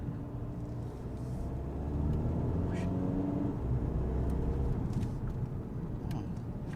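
VW Golf GTD diesel car accelerating from inside the cabin, a low steady engine drone that swells and stays strong for several seconds, with a faint voice in the background.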